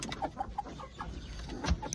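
Brief, soft clucks and chirps from chickens, including Japanese and Vietnamese breeds, close by, scattered irregularly over a quiet farmyard background.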